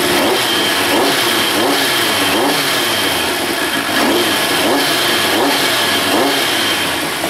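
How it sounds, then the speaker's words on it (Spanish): Steady, loud running of a restored Kawasaki ZZR 1100 motorcycle engine with freshly done timing, a continuous mid-pitched mechanical drone with slight fluctuations and no voices over it. "Sonido de motor ya con la distribución hecha y sin problemas"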